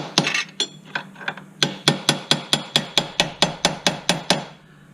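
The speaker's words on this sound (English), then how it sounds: "I am going to use a hammer and a piece of a socket valve." A hammer strikes a piece of socket against a Chevy Malibu front wheel bearing in a steady series of sharp, ringing clanks, about a dozen evenly spaced blows after a few quicker opening hits.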